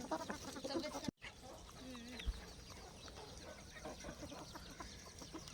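Faint hens of a local village breed clucking softly on a farm amid a murmur of background noise, with a brief dropout near the start.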